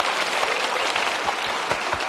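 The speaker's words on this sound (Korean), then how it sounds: "우리 고생하신 우리 소화해 주신 분께 박수 한번 쳐주십시오." Audience applause at the close of a political talk event, a steady wash of many hands clapping at moderate loudness, continuous without voices.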